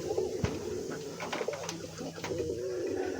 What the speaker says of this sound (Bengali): এই হচ্ছে আমার কিংয়ের জোড়াটা এখন ডিম দিয়ে বসে আছে